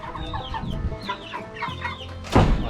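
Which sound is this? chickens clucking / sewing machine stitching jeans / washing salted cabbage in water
chickens clucking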